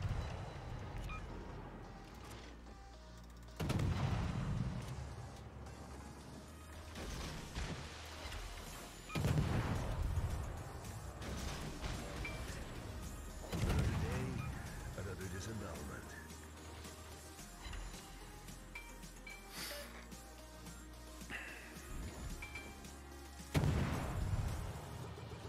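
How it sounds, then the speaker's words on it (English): Tier X Japanese destroyer Hayate firing its guns in World of Warships, several booming shots spaced a few seconds apart over game background noise and music. "Let's use these guns to farm something, shall we?"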